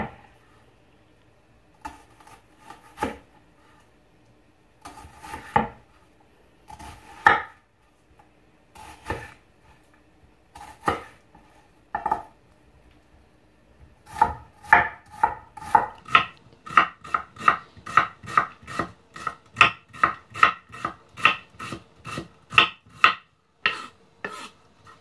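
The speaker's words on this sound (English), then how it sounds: "You have to be careful when you cut the onions." Onions being chopped with a knife on a wooden board, crisp knife strikes starting as scattered pairs of cuts, then settling into a fast, steady run of close, clear chops.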